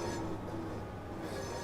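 BR Class 66 freight locomotive in a North London Line train simulator game, with a passing train's wheels squealing over a steady rumble, loud and continuous throughout.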